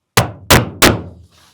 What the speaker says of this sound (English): I'm just using a board and a hammer.